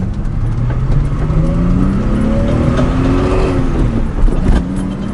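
A 1978 Datsun 280Z with no power steering drives through a U-turn, its engine humming steadily with rising and falling tones, close and fairly loud, with a few faint knocks near the end.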